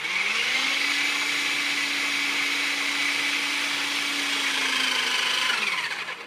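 An electric hydraulic pipe bender, the Bramley PB2E, bends a pipe with a steady, loud motor whine and hydraulic hum at one constant pitch, running without a break for about five seconds before it starts to wind down.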